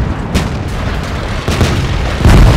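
Artillery fire from an FV304 self-propelled gun in a tank video game, heavy booming blasts landing close together and loud, with a dense rumbling wash between them and no talk.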